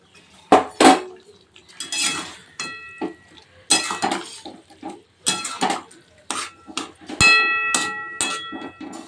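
Fried fish is stirred into a pot of eggplant curry, with a metal spoon clanking and scraping against the pot in uneven bursts and short pauses, loud and close, and no voices.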